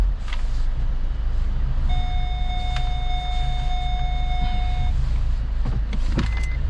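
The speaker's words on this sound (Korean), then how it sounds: "차들이 너무 왔다 갔다 거려가지고 위험합니다" Cars moving back and forth on a busy used-car lot, a steady broad rumble of passing engines with a brief high electronic tone partway through.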